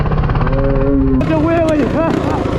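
Street-racing minibike engine revving and rising in pitch while being ridden, loud and close, with a shift midway and excited voices over it.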